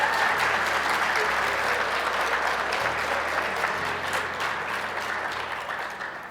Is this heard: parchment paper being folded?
no